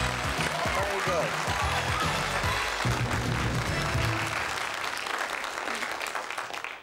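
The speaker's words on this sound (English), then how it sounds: "Please give them a warm, encouraging round of applause as they're starting to go for gold." A studio audience applauds game show contestants on the 1988 British quiz Going for Gold, with steady clapping throughout and voices and music mixed in, tapering off near the end.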